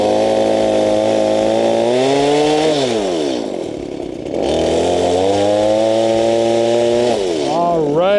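A chainsaw cutting logs and throwing sawdust, close and loud, its engine whining through repeated rising and falling revs as it bites into the wood and eases off.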